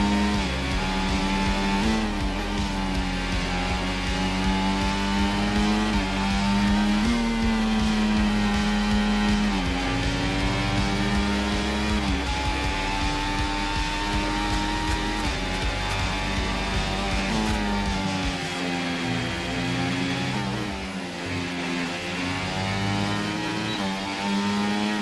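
An F1 car from the F1 24 racing game lapping the Austria circuit at full speed, a loud continuous high-pitched engine whine that rises through the gears, dipping at shifts, with no talk.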